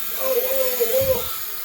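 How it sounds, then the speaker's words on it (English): A cheap toy drone whirs with a thin, steady rotor buzz that wavers in pitch as it flies out of control, mixed with excited voices nearby and a brief low thump. "Watch out for the cheap ass drone."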